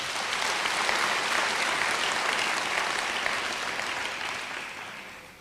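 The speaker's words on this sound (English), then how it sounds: "May we give him a round of applause" An audience applauds Thabo Mbeki at his inauguration as UNISA chancellor, a dense, steady wash of clapping that fills the hall and slowly fades toward the end.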